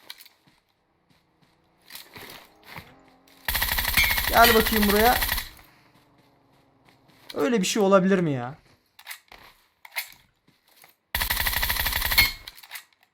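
Gunfire in the PUBG Mobile battle royale, several loud bursts of automatic shots in short volleys with pauses between, while someone talks over the game sounds.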